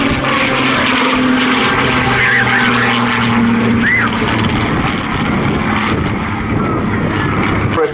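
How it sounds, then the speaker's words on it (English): A Spitfire propeller aircraft flies a display at the Southport Airshow, its engine drone steady and loud throughout, under a broad wash of crowd and wind noise. "flies the Spitfire throughout the season."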